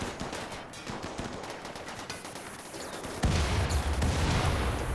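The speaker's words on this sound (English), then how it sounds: "I think I mortared right around them." Mortar salvo firing in the RimWorld video game, a dense run of sharp gunfire-like bursts that swells into a louder, heavier barrage near the end, with no talking.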